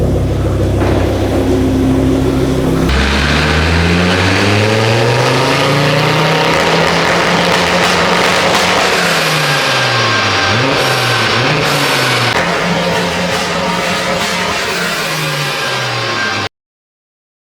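Stage 2 Ford Focus RS MK2 engine tuned to about 305 hp, revving hard through several rising and falling sweeps with crackling exhaust pops, loud and close, with no talk over it.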